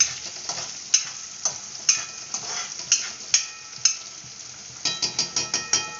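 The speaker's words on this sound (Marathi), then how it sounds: "मस्त होऊ द्यायचे कांदे तेलामध्ये." Onions fry in several ladlefuls of hot oil while being stirred, giving a steady close sizzle broken by regular clinks and scrapes of a spoon against the pan.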